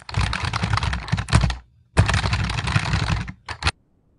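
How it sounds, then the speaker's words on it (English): Someone types on a computer keyboard at close range, with two dense bursts of rapid key clatter split by a short pause and then a few final taps. "I'm typing here on my keyboard"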